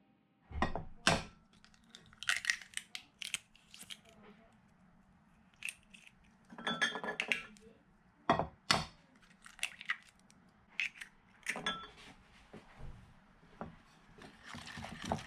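Galette des rois batter is stirred with whole eggs in a bowl: wet, squelching scrapes and clicks come in uneven bursts separated by short pauses, close and quiet.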